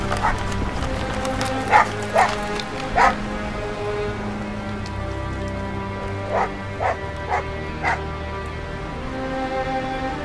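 A hunting dog sent after prey barks in several short, spaced bursts, moderately loud over a steady ambient background with low hum and tonal sound.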